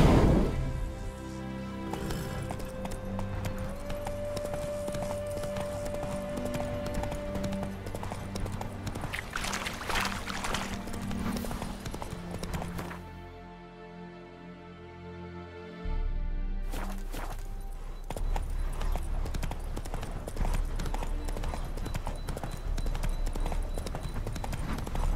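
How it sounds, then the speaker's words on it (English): A horse's hooves clip-clop steadily in The Witcher 3: Hearts of Stone, walking along under game music and ambient sound, with brief spoken voices and a short quieter pause midway. "Spooking my horse."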